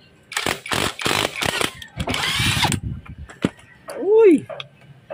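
A power tool dismantling a motorcycle stator with loosened screws gives several short, sharp bursts and one longer whirring run, close up, followed by a brief voice near the end.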